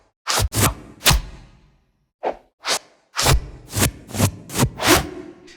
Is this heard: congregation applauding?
no